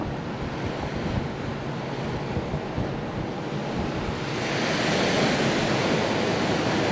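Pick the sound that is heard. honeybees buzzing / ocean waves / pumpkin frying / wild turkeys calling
ocean waves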